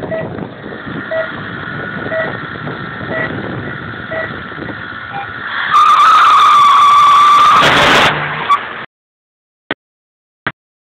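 A race car with a German engine, running number 330, roars past at a rally-style event, a steady engine drone building to a loud close pass with tire scrubbing, then cutting off abruptly with two brief clicks afterward.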